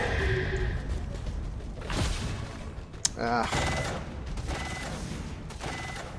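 Gunfire in a heavily modded XCOM 2 battle: a dense, roaring wash of shots and mechanical clatter, with a sharp crack near the middle and steady loud combat noise throughout.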